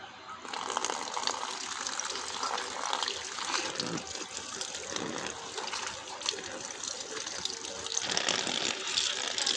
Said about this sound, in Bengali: কচু পাতাগুলো আমরা এনেছি, এগুলো আমরা এবার জলে ধুয়ে নেব।